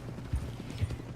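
Hooves of a horse in Red Dead Redemption 2 clip-clop in two distinct, close steps over a low rumble of ambient noise.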